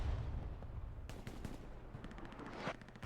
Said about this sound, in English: with the artillery landing on both sides here